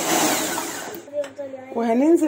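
An electric mixer whirs loudly for about a second as it beats chocolate cake batter, then stops, and a person starts talking.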